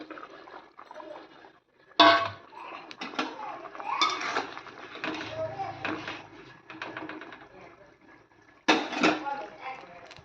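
Pomfret fish pieces go into a pot of boiled potatoes, bringing soft clinks of utensils against the pot and wet splashing in irregular bursts, with faint voices in the background.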